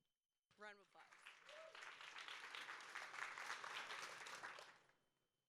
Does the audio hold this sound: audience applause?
yes